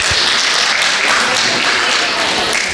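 An audience at a Ugadi 2025 celebration claps in sustained, dense applause that stays loud and even throughout, close and filling the room, with no voices on top.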